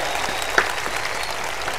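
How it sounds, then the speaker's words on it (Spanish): An audience at a comedy show applauds, dense steady clapping from a crowd heard for a short burst without talk. "El aplauso para Alonso"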